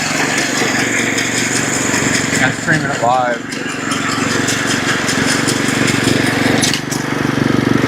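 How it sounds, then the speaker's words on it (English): A lawn mower runs steadily on a putting green at 7:30 in the evening, its engine droning close and constant while someone talks over it. "some crazy old guy out mowing his putting green at 7:30 at night"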